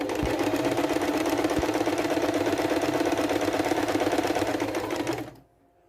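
A loud sewing machine quilting, running at a steady fast stitching rhythm close by for about five seconds before stopping abruptly, with no talk.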